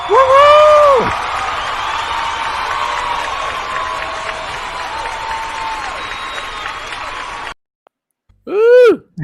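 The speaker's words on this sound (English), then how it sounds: "Full round of applause, even at 1 o'clock in the morning" A studio audience claps in a dense, sustained round of applause welcoming a guest onto a late-night show, steady for several seconds before breaking off, with a cheer or whoop near the end.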